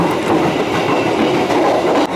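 The Bengawan passenger train rolls along the rails on the Jakarta–Yogyakarta route, a loud, close, continuous rumble with steady wheel clatter and no voices.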